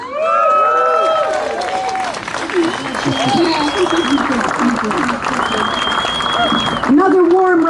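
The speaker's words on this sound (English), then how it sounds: "Another warm round of applause for our Community Environmental Council's Environmental Hero 2019" Warm audience applause at the Environmental Hero award ceremony rolls on steadily while voices speak and call out over it, with some cheering mixed into the crowd noise.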